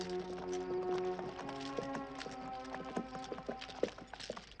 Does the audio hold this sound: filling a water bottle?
no